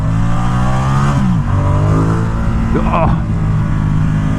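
A 2017 Ducati XDiavel S motorcycle on a 240 rear tire revs and accelerates close by, its engine tone dropping at a gear change and then climbing again, with a brief exclamation from the rider.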